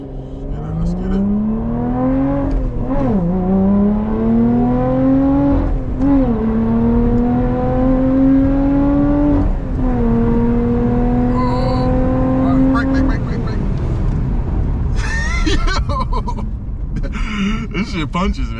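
Lotus Evora 400 GT Carbon Pack, a 2021 car with over 400 hp, accelerating hard from inside the cabin through gears one to four. Its engine note climbs and drops sharply at each of three upshifts, loud and continuous, and voices speak near the end.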